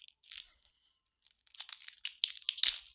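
Plastic packaging on a Pokémon lunch box bundle is worked at and pulled open along its seam, giving faint crinkles at first, then a burst of close, crackling tearing and crumpling toward the end.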